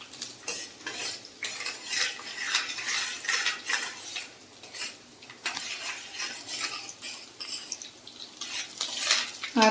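Green chilli pieces and fresh curry leaves are tempered and stirred in a pan of hot oil, with steady scraping and clinking of a metal spoon and a soft sizzle running throughout at close range.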